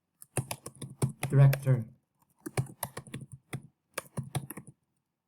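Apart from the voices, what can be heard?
typing on a computer keyboard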